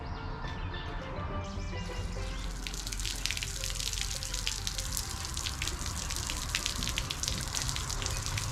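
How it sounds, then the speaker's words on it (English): Water runs steadily from a hose into a flushing attachment on a boat's outboard motor, a continuous rushing, splashing hiss that stays constant throughout with no talking. "Turn the water on."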